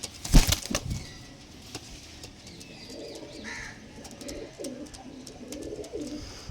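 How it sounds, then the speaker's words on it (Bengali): Pigeons released into the sky, with a loud burst of wing flapping at the start followed by soft, repeated cooing and fluttering at a moderate distance. "পায়রাগুলো আকাশে ছাড়ো"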